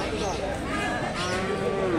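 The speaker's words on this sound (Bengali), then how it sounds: "এই যে ষাঁড়টা," A Friesian bull's deep, drawn-out moo rises and slides downward, heard close over a busy background of voices and outdoor noise at a cattle market.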